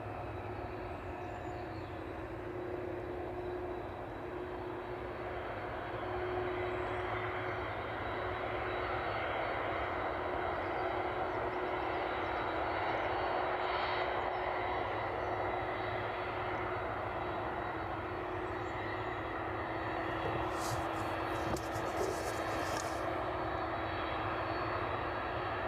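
A jet airliner taxis at East Midlands Airport in the evening, its engines a steady, distant rumble and whine that holds for the whole stretch, with no talk over it.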